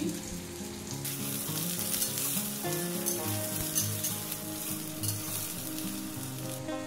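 Ginger hits hot oil in a pan with bhringraj greens and sizzles loudly and continuously, with stirring scrapes close by and no talk.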